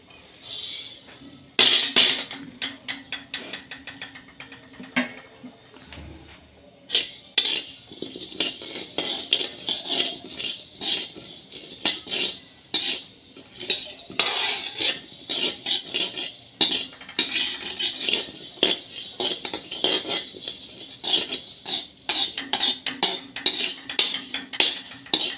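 Metal clinks and scrapes repeat irregularly as spices are stirred and tossed in a hot, dry wok, loud and close, with no talking.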